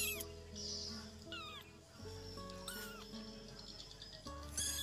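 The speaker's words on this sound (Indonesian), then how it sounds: "Padahal ini anakan kucing ras loh" Small abandoned purebred kitten giving repeated high, thin meows, close and fairly clear, over steady tonal background sound.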